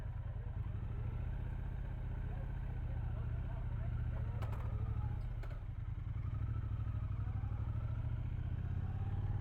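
Triumph Speed Twin 1200RS with its roughly 1200 cc parallel twin engine running close by, a steady loud low rumble throughout with a couple of sharp mechanical clicks partway through.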